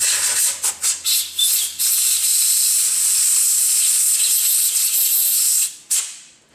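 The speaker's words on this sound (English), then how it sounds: "Once you're done, you want to use a high-pressure air hose." A high-pressure air hose blows out a freshly tapped bolt hole: several short sharp blasts of hissing air, then one long continuous close blast, a brief pause and a final short burst.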